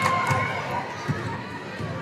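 A girls' high school basketball crowd in a gym reacts to a made shot, a diffuse cheering murmur with a few shouts, moderately loud and sustained, with an announcer's voice faintly mixed in.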